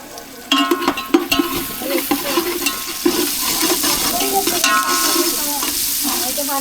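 Garlic and chillies hit hot oil in a pan aboard a fishing boat, giving a loud burst of frying that settles into a steady, close hiss with stirring scrapes and no talk.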